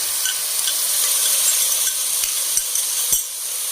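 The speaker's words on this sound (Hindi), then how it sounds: "अब इसमें दही डाल देंगे" Yogurt goes into a pan of simmering egg gravy, bringing a bright, continuous sizzle with a few soft stirring knocks and scrapes against the pan.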